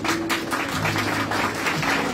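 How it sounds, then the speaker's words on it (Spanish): Graduation audience at the Instituto Oficial San Buenaventura applauding, a steady dense wash of clapping that fills the whole moment at moderate loudness with no clear talk over it. "Gracias por esta aplauso gracias"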